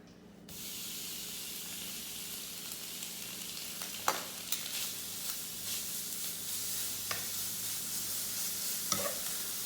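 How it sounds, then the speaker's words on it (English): Steady broadband hiss of bacon frying in a pan, with a few sharp pops and crackles scattered through the sizzle. "Bacon needs to go into our frying pan."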